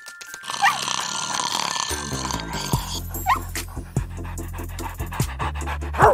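A freshly washed dog pants and huffs close by in short breathy bursts, while people talk over it.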